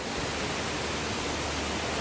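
Bunyaban waterfall in a Ranong national park: a steady, unbroken roar of falling water, dense and even, with no voices.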